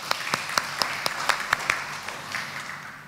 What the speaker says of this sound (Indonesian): Berikan tepukan sekali lagi.